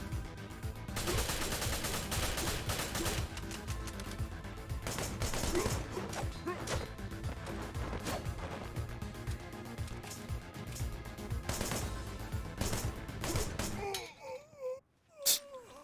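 Dense, sustained gunfire with rapid bursts in a chaotic Wanted: Dead battle, mixed with wailing and crashing effects, loud and continuous for most of the stretch before breaking off into sparse sounds near the end.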